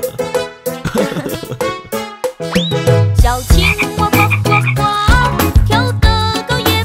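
Frog croaks set inside a cheerful children's nursery song, rhythmic croaking blended with bright melodic music throughout, loud and close.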